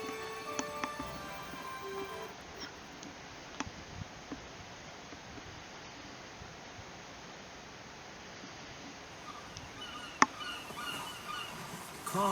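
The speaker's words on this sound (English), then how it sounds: "Crows and gulls." Crows and gulls call in the Final Fantasy Tactics game over a soft ambient wash, with a few faint bird calls and a sharp click near the end.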